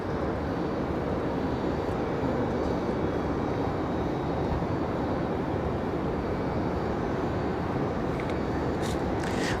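A Southwest airliner roars down runway 5 right at Raleigh Durham International on its takeoff roll, a loud, steady broadband jet engine rumble heard from outside the airfield.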